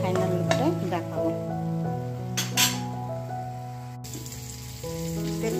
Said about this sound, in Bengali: মাছ ভাজা বসে গেছে